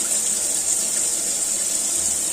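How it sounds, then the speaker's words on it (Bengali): Tap water pouring steadily into a draining bowl in a kitchen sink, a loud, close, continuous gushing hiss with no break and no talk. "এই যে এখানে আমি জল ঝরা বাটিটা রেখে দিয়েছি, আর এরকম জল ছেড়ে দিই"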